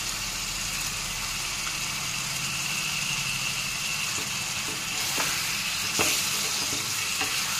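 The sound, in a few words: sautéing liver pieces in spice masala in a pan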